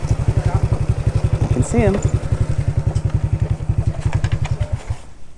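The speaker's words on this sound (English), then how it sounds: "This is his bike. It's a Royal Enfield Himalayan. If I remember rightly, it's 411cc." A Royal Enfield Himalayan 411cc motorcycle idles close by with a steady, rapid, loping thump that stays loud throughout, and a person speaks briefly over it.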